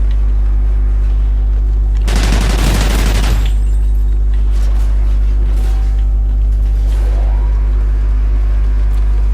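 Call of Duty Ghosts free-for-all match with one loud burst of gunfire lasting about a second, followed by quieter game noise over a constant low hum.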